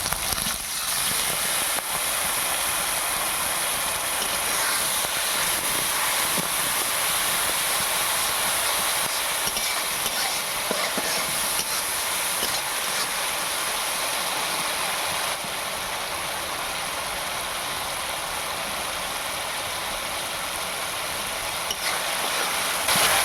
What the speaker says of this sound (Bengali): এইভাবে ভালো করে কষিয়ে নেব এখানে আমার মশলাটা ভালো করে কষানো হয়ে গেছে